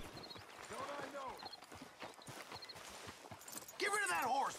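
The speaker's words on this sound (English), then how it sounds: "Get rid of that horse. Move it." Horse hooves clopping at a walk beneath ongoing conversation, with a burst of louder speech near the end, in the video game Red Dead Redemption 2.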